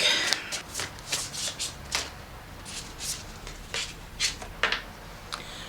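Tarot cards shuffled by hand in a steady run of crisp riffling bursts, close and clear with no voices, repeating every half second or so.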